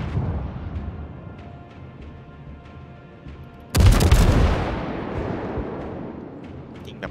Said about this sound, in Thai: ยิงแบบข้ามกองง่ายๆ